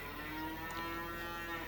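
A cow in the video game Farming Simulator 25 lets out a single long, steady moo, close and clear over a faint background hum.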